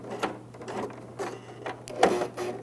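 A sewing machine stitches a thick jeans hem in short, uneven bursts of mechanical clatter, with louder knocks where the needle strains and jams, close and alone.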